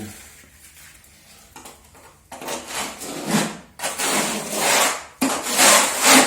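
A spatula spreads decorative plaster made from ordinary putty, scraping and rubbing in long, loud gritty strokes that start after a quiet stretch and come in three sweeping passes close by.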